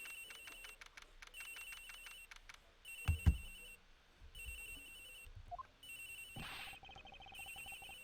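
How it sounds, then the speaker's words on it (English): Telephone ringing in the Ace Attorney Investigations video game, heard as repeated electronic ring bursts over a quiet background hum, with a few louder game effects and thumps between the rings. "The ringing's coming from somewhere in here"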